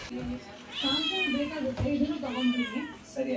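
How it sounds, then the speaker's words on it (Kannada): A well-fed cat meows insistently, two drawn-out rising-falling cries close by, with a steady background hum at a night-time vegetable market. "ಈ ಬೆಕ್ಕು ಎಷ್ಟು ಹೊಟ್ಟೆ ತುಂಬ ತಿಂದರೂ ಕೂಡ ಒದರೋದು ಬಿಡೋದಲ್ಲ"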